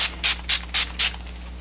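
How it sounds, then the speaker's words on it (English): Urban Decay makeup setting spray misted from a pump bottle: four quick, evenly spaced hissing sprays, close and crisp, with no voices. "I'm going to set my makeup with a little bit of the Urban Decay setting spray"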